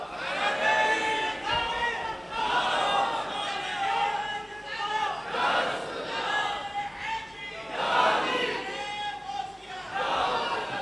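A crowd at a religious gathering chants a religious slogan in unison, several swelling voiced waves rising and falling in rhythm, fairly close and loud.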